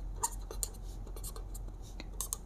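Chalk or marker taps and strokes on a board as math is written during a class lesson, faint scattered scratches over a quiet room hum.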